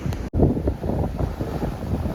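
Strong wind gusting and roaring against the microphone, with rough sea surf churning beneath it, loud and continuous.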